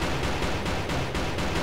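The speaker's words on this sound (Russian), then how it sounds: "Просто стрельба в никуда." Rapid, steady gunfire from the video game Havocado, a dense unbroken burst of shots with faint rhythmic pulses running through the whole stretch, loud and close with no talk over it.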